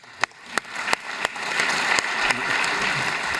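Applause from the audience at a technical forum on coin minting, starting with a few separate claps that quickly grow into a steady, fairly close round of clapping that continues to the end.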